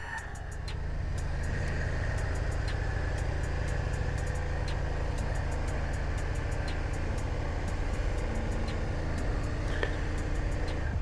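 A 2003 Suzuki SV650 motorcycle engine idles on choke, a steady close low rumble with a rapid even pulsing throb, continuous throughout without speech.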